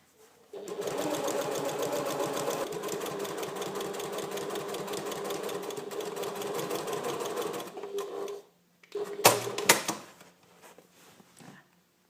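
A sewing machine stitches curtain lining fabric panels together in one long steady run of rapid needle clatter, then stops and gives a brief second burst, close and clear with no talking.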